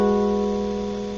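A guitar chord picked on three strings rings out sustained and clear, fading slowly as the notes decay, with no talking.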